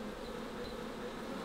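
Dense, steady buzzing from a large colony of honeybees at a hive in full production, a continuous close drone with no voices over it.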